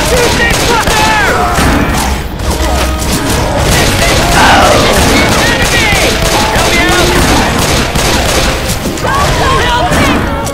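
Loud, continuous gunfire in the co-op zombie shooter Left 4 Dead 2, with overlapping shots, booms and crashes filling the whole stretch while players shout over the din.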